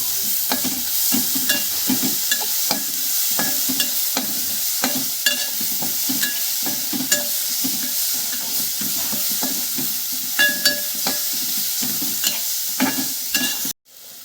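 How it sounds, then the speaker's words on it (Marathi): Ground masala paste stir-fried with browned onions for mutton keema patties: a steady loud sizzle under rhythmic scraping stirs, close and continuous, ending in a brief knock. "वाटण पण परतून घ्यायचं आहे"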